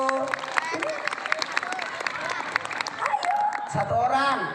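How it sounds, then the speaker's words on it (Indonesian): Children and audience clap for first-grade pupils at an Islamic sermon gathering; dense, steady clapping runs throughout, with voices speaking and calling out over it. "Tepuk tangan dulu anak kelas 1"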